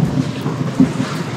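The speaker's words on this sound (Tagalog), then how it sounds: "Lakas kasi ng ulan eh." Heavy rain pouring down outdoors, a dense constant hiss with low rumbling that may be distant thunder, loud and continuous with no voices.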